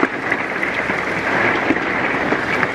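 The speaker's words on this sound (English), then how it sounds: "It is monsooning outside right now. The raindrops are massive." Heavy monsoon-like rain pours steadily outside with large drops, a dense, continuous hiss that stays loud and even throughout with no voices.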